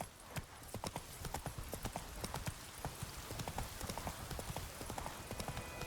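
Roach, Geralt's horse in The Witcher 3, gallops steadily with rapid, rhythmic hoofbeats that carry clearly and evenly throughout, with no one speaking.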